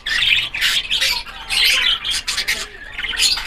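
Parakeet hen in a breeding box squawks in a run of loud, harsh, closely spaced calls, near and alone with no talk.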